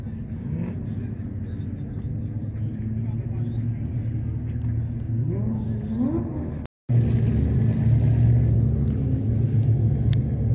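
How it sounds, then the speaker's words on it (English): A cricket inside a truck chirps in a steady, regular pulse over low engine rumble and a voice, turning louder and closer after a brief cut. "There's literally a cricket in there somewhere."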